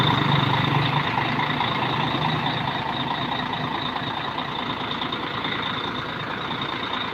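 A Mercedes-Benz 1836 bus engine runs with a steady, loud, droning rumble, heard from behind the bus on the Mamasa route, holding an even level throughout with no talking.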